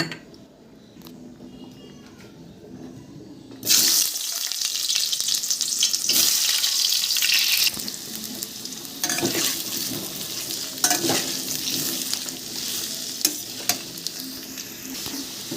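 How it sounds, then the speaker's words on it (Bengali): Chunks of giant taro (man kochu) hit hot oil after a quiet moment, bursting into loud, continuous sizzling, with a utensil stirring and clinking against the pan at intervals. "আর একটু তেল দিয়ে তেলটা গরম করে মানকচুগুলো ভেজে নেব"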